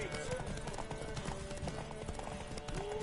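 Horse hooves clip-clopping in the video game The Witcher: Wild Hunt, a fast, steady galloping rhythm with game music and ambience underneath, and a brief horse snort or whinny.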